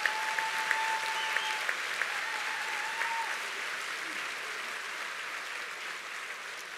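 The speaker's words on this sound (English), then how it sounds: "How about another round of applause for our talented seniors?" Audience applause at a 2019 school graduation ceremony for the seniors, steady clapping from a large crowd that slowly fades, with a faint tone underneath.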